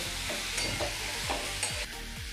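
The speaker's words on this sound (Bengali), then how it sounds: "এর মধ্যে দেব 2টো মিডিয়াম সাইজের টমেটো কোচানো আর 2টো কাঁচা লঙ্কা একসাথে মিশিয়ে নেব।" Chopped tomatoes and green chillies stirred into onion and garlic frying in a pan, with a steady close sizzle and several rhythmic scraping strokes of a spoon, no talking.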